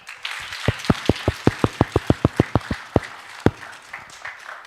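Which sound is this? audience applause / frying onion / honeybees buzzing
audience applause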